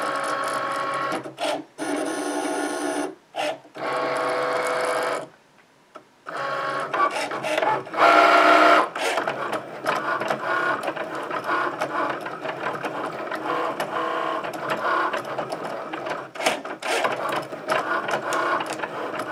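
A Cricut cutting machine slices through thin aluminum from a soda can, a loud whirring motorized buzz with brief pauses as the carriage moves, then a second steady cutting pass.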